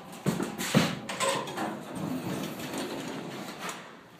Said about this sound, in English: Yes, the rear door opens.